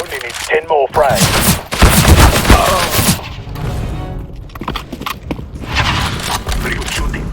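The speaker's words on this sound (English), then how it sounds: "Very good shooting." Gunfire in CS:GO on the De Dust 2 map crackles in rapid automatic bursts and scattered single shots, close and loud, mixed with game sound effects and brief voices.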